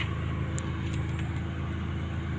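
A car engine idles roughly at a low, unsteady speed of around 500 to 600 RPM, giving a steady close-up low rumble with no voices.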